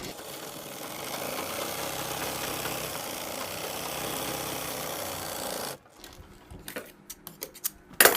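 A sewing machine stitches a seam on a Pakistani salwar, a steady close motor hum and rapid needle chatter for several seconds that stops, followed by quiet handling clicks and rustles of the fabric.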